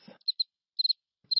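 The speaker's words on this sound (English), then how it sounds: "Just crickets and silence." Cricket chirps in short, evenly spaced bursts of two or three trills, separated by silence, fairly close and alone with no talk.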